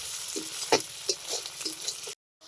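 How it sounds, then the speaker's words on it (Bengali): Ginger frying with onions in a kadai over a clay village stove, heard as a continuous close sizzle broken by scraping stirs and clinks before an abrupt cutoff. "আদাটা দিয়ে এটার সঙ্গে ভালোভাবে মিক্স করে নেব পেঁয়াজের সঙ্গে, যাতে ভালোভাবে দুটোই ভাজা হয়ে যায়।"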